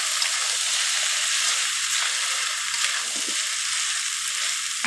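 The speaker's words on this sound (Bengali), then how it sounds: "আমি এখানে মশলা মাখানো পাস্তা নুডলসটা ঢেলে দিচ্ছি ঢেলে দিয়ে ভালোভাবে মিশিয়ে নিচ্ছি" Spiced pasta noodles frying in a pan, a loud, constant close-up sizzle that holds evenly throughout with faint scraping from stirring underneath.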